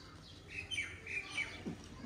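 Small chirps and calls come from caged Sialkoti quails and pigeons, faint and intermittent over a low background hum.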